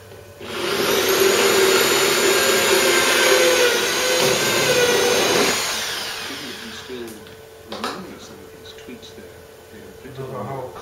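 A power drill bores a hole in a Ford Cortina MK3 GXL body part during restoration, a loud steady whine lasting about five seconds before winding down, followed by quieter workshop clatter.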